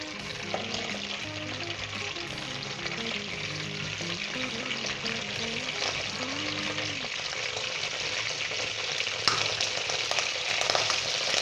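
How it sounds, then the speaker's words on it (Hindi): Ghee heats in a pan, holding a steady, close sizzle throughout with occasional stirring and a brief scrape, no talking. "घी को गर्म होने दें अच्छे तरीके के साथ"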